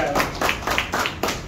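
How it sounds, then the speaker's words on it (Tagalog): A church congregation applauds, with several strong rhythmic claps ringing out in a roomy space, loud and close. "Isa pa malakas na palakpak, yung pinakamalakas na palakpak para sa ating Panginoong buhay."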